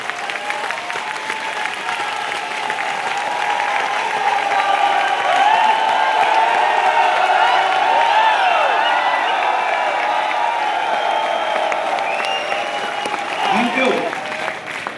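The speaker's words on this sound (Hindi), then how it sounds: "ये है असली जश्न, ये तालियां हैं असली जश्न" A large crowd at a speech event in Kashi applauds loudly and continuously, with cheers and whoops rising above the sustained clapping.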